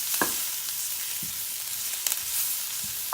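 Onions sautéing in a pan give a steady, close hiss of frying, with a few soft stirring scrapes and light clicks scattered through it.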